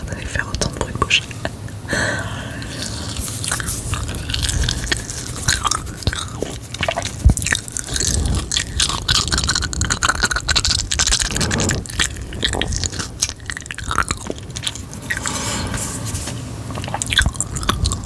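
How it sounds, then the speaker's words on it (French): Wet, open-mouth chewing and mouth sounds recorded very close for French ASMR with sweets, continuous squishy, sticky smacks and crunchy bites with whispering throughout. "mâcher la bouche ouverte et faire autant de bruit de bouche"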